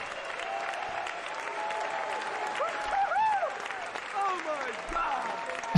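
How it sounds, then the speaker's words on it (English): A big audience at Nintendo's 2004 E3 press conference cheers and applauds, a steady dense roar with scattered shouts and whoops rising near the middle, alongside people talking. "is one of the best crowd reactions of any E3 ever"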